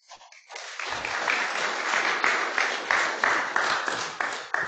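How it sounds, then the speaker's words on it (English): An audience at a physics meeting applauds after a discussion session. The clapping starts with a few scattered hands, quickly swells into sustained, dense applause, and holds steady with rhythmic surges. "So let's give another round of applause to Greg."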